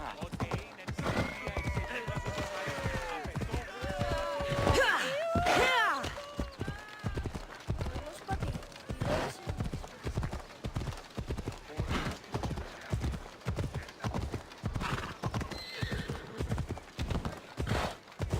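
A horse in Assassin's Creed Odyssey gallops with steady, rhythmic clip-clop hoofbeats throughout, and a loud neigh rises near the middle; voices speak briefly over the riding.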